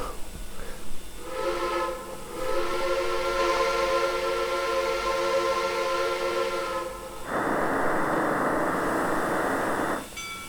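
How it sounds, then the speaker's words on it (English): A steam locomotive whistle, from an R&N 425 4-6-2 in the game Trainz 2019, blows a long, steady multi-tone chord, then cuts to a loud burst of hissing steam, with no voices. "That's a good sounding whistle."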